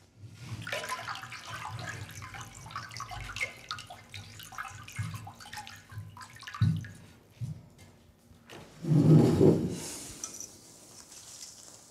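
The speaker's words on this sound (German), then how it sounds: "Und dann geben wir hier noch mal Wasser drauf." Water splashes and pours into a glass of pigment particles in several bursts, with a louder gush near the end, over faint background clatter.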